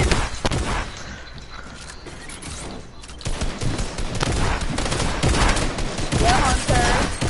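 Rapid video-game gunfire bursts out in dense, crackling volleys. A quieter stretch comes in the middle, then heavier shooting resumes, with a few short tonal beeps near the end.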